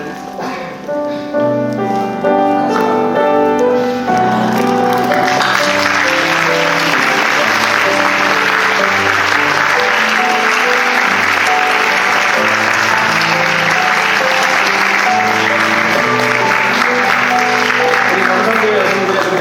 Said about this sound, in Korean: 크게 박수로 좀.